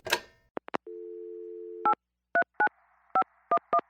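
A telephone voicemail system plays a short electronic pickup blip, then a steady low tone lasting about a second, followed by a series of crisp, evenly spaced keypad-style beeps heard alone.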